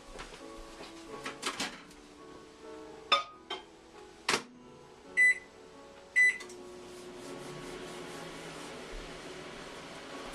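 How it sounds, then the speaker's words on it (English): A microwave oven hums steadily nearby, with a few clunks and sharp clicks or beeps scattered through the low drone, and no talking. "So we're going to stick this in the microwave."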